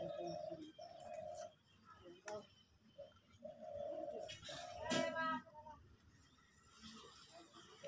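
A white-breasted waterhen, a captive hunting decoy bird that is moulting, gives a series of clear, repeated hooting calls nearby, short notes in an uneven rhythm, with faint background noise.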